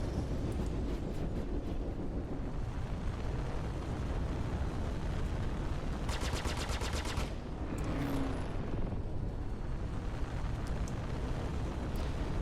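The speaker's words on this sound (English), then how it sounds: "As you see one of these guys here shooting at me." AI-controlled ships firing on the player in the space game Star Citizen, a dense roar of engine rumble and weapon bursts with a sharp rapid-fire volley midway, steady and loud throughout.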